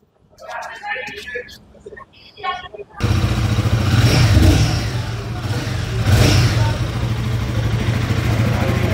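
Someone talks briefly before a Royal Enfield Guerrilla 450 motorcycle engine fires up close by, settling into a loud idle with two strong throttle revs swelling and falling back.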